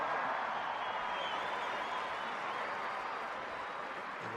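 A crowd at a men's international rugby match between Portugal and Japan applauds steadily, a distant, even wash of clapping with no clear voices.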